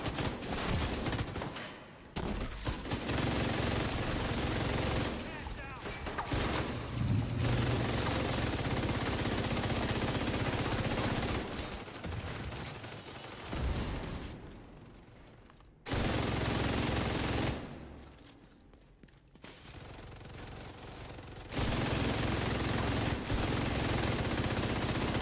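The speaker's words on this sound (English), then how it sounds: "Blind firing." Long, loud bursts of automatic gunfire in The Division 2, blind firing in heavy sustained volleys broken by a few brief pauses over about twenty-five seconds.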